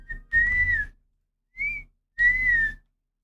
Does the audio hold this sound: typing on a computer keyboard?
no